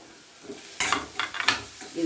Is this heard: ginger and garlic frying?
yes